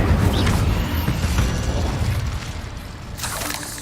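An Incendio fire spell cast in Hogwarts Legacy gives a loud, rumbling whoosh of flame with deep booming energy that fades slightly toward the end.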